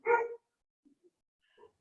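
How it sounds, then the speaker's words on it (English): Dogs barking close by indoors, one loud bark followed by a couple of faint short yips and another softer bark in otherwise quiet surroundings. "My dogs must have seen a squirrel."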